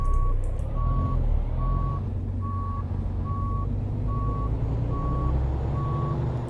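An International LT midroof truck in American Truck Simulator backs up, its reversing alarm sounding eight evenly spaced beeps over a low, steady engine rumble.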